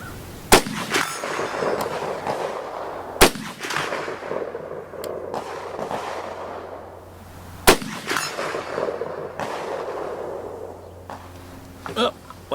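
A Romanian M56 SKS rifle firing at targets out to 240 yards: several loud, sharp shots spaced a few seconds apart, each with a ringing echo tail over outdoor background noise.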